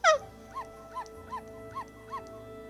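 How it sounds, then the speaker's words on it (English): A small dog in the video game Okami barks like a Pomeranian, giving a string of five high yips at an even, steady rhythm that follow a louder opening yelp. "Bark like a little Pomeranian, bro."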